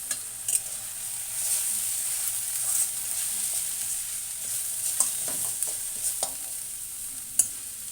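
Egg ukkiri, a scrambled egg dish, sizzles softly in a pan while a utensil stirs and scrapes it in short, irregular strokes, steady frying hiss throughout with no talk.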